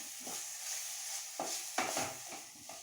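Spices and masala with turmeric, chicken masala powder and crushed fennel sautéing in a pan for semiya pulao, a soft steady sizzle broken by a few scraping stirs of a spoon.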